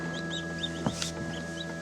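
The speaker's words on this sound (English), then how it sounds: "there are some baby chicks." Newly hatched baby chicks cheep inside a chicken incubator at the end of day 21, giving a string of faint, high, repeated peeps over a steady mechanical hum.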